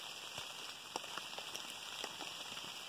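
Rain patters steadily on surfaces in the remote Alaskan wilderness at a moose hunting camp, a soft dense hiss with scattered distinct drops, quiet and unbroken, with no talking.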